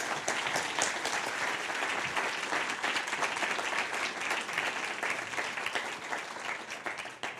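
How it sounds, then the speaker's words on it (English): An audience at a London Business School lecture on longevity gives a big round of applause. The clapping is sustained and even, rolls on for several seconds and thins slightly near the end. "Big round of applause."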